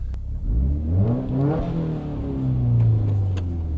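A Subaru WRX driving past, its engine note rising as it approaches and then holding as a steady, fairly loud growl, heard on a commute.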